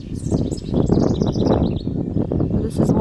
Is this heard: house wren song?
yes